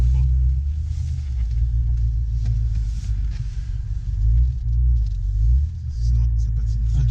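A BMW M5 F10 tuned to 750 hp gives off a deep, continuous engine rumble, loud and close, swelling slightly at moments, with someone talking over it.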